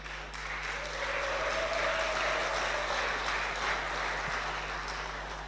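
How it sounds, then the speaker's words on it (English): An audience at the final pitch evening of Startup Weekend Bratislava claps together, a soft, steady wash of applause heard from a distance over a low electrical hum. "clap if you've had fun"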